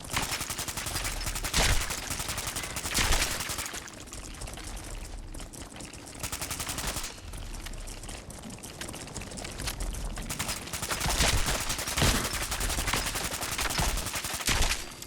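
Rapid gunfire in the Fallout 4 video game, with dense bursts of automatic shots and loud crackling volleys that continue almost without a break, fading and surging over several seconds.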